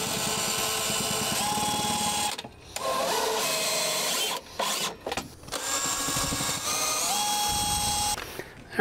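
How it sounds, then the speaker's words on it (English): A power drill drives a couple of screws into a wooden stop for deck building, with long, loud whirring bursts broken by brief pauses and shifts in pitch as each screw sinks. "I'm gonna throw a couple screws in it."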